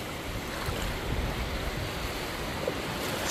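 Ocean waves on the beach at Pawleys Island, South Carolina, a constant broad wash of surf with wind noise on the microphone, loud and steady throughout.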